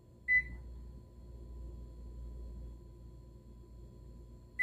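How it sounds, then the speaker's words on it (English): An air fryer being switched back on to cook, giving one short, clear electronic beep near the start and another at the very end, over a steady low appliance hum. "we're going to put it back on air fry"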